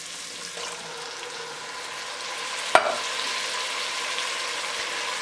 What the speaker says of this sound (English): I'm going to add our tomatoes with the juice.